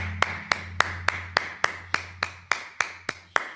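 Hands clap in a steady, even rhythm at a Sabbath service, about a dozen sharp claps spaced roughly a third of a second apart, close and clear with no talk.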